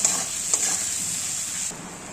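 Boiled potato, about 80% cooked, frying in oil with salt, turmeric and chili powder, a steady close hiss and sizzle with a couple of light stirring scrapes, no talk.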